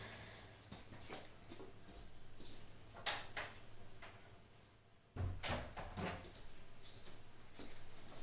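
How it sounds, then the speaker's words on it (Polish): A door is shut at home, heard as a few close wooden knocks and clunks with a sharper thud midway, among faint handling noises and no speech. "Musiałem sobie zamknąć drzwi."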